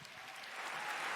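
A conference audience at a keynote breaks into applause, a dense wash of many hands clapping that holds steady and swells slightly toward the end of the short burst.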